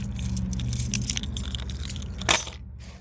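Truck keys jangling and clinking close by in a few brief metallic rattles, with a sharper jingle near the end, against a low background hum.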